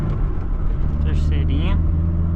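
A Volkswagen Gol G3 engine with a suspected clutch or bearing fault runs steadily at low rumble while shifting through the gears, with a brief higher whine partway through and a person talking over it.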